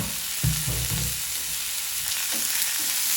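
Sitaw string beans for adobo sizzle and fry in a pan while being stirred, with a steady close frying hiss and a few soft utensil scrapes and clunks throughout.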